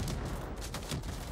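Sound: gunfire from a weapon in the video game Helldivers 2

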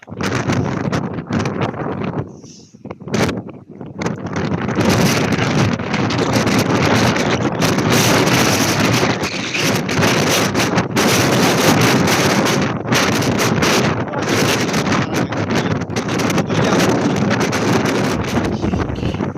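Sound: strong wind and big ocean waves

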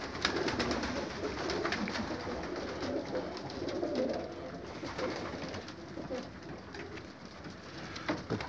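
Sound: pigeons cooing in a loft at evening feeding

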